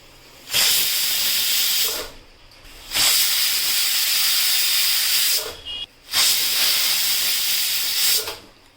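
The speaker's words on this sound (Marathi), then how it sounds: "तर आता आपण लगेचच कुकरच्या तीन शिट्ट्या काढून घेऊयात" A pressure cooker on the stove, cooking veg pulao, lets out three loud steam whistles, each a sustained hiss lasting roughly two seconds, separated by short quiet gaps.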